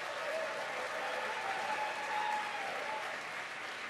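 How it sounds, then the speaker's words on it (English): Officer candidates at an Army OCS graduation applauding their family members: a steady, full wash of crowd clapping, moderately loud and even throughout with no break. "How about a round of applause, candidates,"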